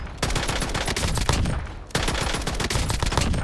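Call of Duty: Warzone FENG built as an SMG firing long rapid bursts, loud dense rattling shots with one brief pause between two strings of fire.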